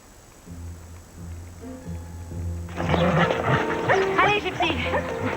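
Dogs in a 2001 French television film scene start barking partway through. The sharp, loud barks overlap one another after a quieter stretch of tonal sound, with voices mixed in.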